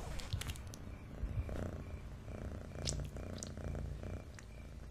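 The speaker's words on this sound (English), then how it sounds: "Like purring?" Cat purring in a cartoon, a soft rhythmic rumbling purr repeating in steady cycles, quiet and close, with small clicks around it.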